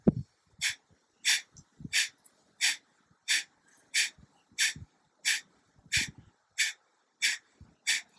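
Forceful breathing exercise with sharp, pumping exhalations driven by the belly snapping toward the spine, about a dozen quick bursts in a steady rhythm of roughly one every two-thirds of a second, close and clear with no talking.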